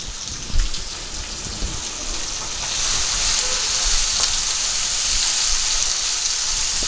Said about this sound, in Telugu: పచ్చిమిర్చి ముక్కలు నేను ఆయిల్లో వేసుకుంటున్నాను